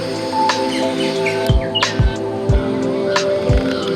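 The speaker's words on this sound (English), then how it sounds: "In the wild, this is a noisy species with an unmistakable squawking call" Rose-ringed parakeet giving sharp, repeated squawking calls, several bursts in quick succession, loud and close over a steady background hum.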